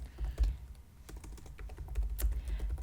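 Computer keyboard typing during a beginner coding session, a steady run of close, soft key clicks with uneven rhythm and a low background rumble, with no talking.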